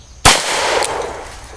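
A single sharp gunshot from a Smith & Wesson Model 29 revolver with an 8 3/8-inch barrel at a shooting range. It cracks loudly after a brief quiet moment, then a bright ringing tail fades slowly with no voices.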